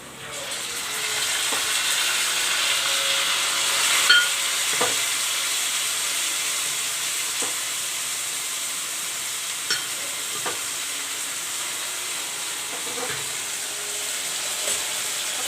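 Saag greens go into a sizzling tempering in a home kitchen pan, producing a loud, steady frying hiss with occasional soft clicks of a spoon over about fifteen seconds.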